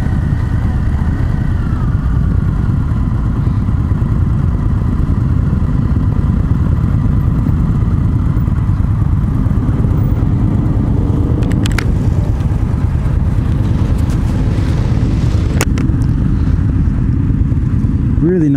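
Indian FTR1200 twin-cylinder motorcycle on a demo ride, its engine droning steadily and loud throughout with a low rumble, wind and road noise mixed in, and a couple of brief clicks near the end.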